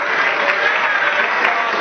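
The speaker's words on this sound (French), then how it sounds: "applaudissez tout le monde" Audience applause at a film premiere in a hotel, sustained dense clapping from a crowd filling the room, loud and even with no voice over it.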